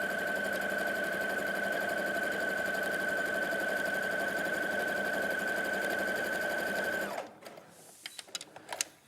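A sewing machine stitches a quarter-inch patchwork seam for quilting. It runs at a steady, even whir for about seven seconds, then stops, leaving a few light clicks and handling sounds. No one speaks.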